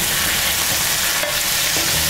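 Sliced onion, green chillies and curry leaves frying for a home-made sambhar, a dense, close, steady sizzle with light stirring scrapes and no talking.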